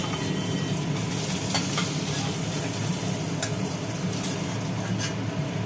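Pieces of katla fish frying in hot oil, batch by batch, give a steady close crackling sizzle with occasional sharper pops and spatters, continuous throughout with no talking.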